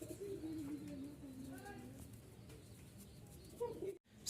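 Giribaz pigeons at a bird sale in Mirpur-1, Dhaka, giving soft low cooing calls up close, with light background noise and a brief rustle near the end.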